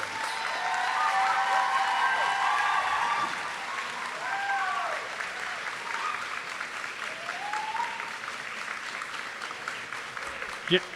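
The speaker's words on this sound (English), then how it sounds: "give a round of applause to thank all your supporters in the audience" Sustained applause from a large audience, loud at first and then settling into steady clapping, with some voices mixed in.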